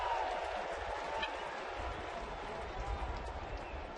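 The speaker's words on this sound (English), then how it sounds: "about as sarcastic an applause as you're going to get from a crowd in Cincinnati" A ballpark crowd in Cincinnati gives scattered, sarcastic applause during a Mets–Reds game. The clapping is distant and muffled, with a low stadium rumble underneath.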